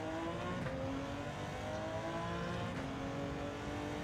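A Porsche 917K race car in Gran Turismo 7 roars continuously at high revs, its engine note holding steady with slight pitch shifts as it drives a road circuit, alone without talk.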